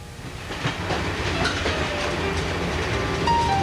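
The Canadian passenger train rolls on its rails through the Coast Mountains and Fraser River Canyon, a steady close rumble with rhythmic clickety-clack of wheels over rail joints and no voices.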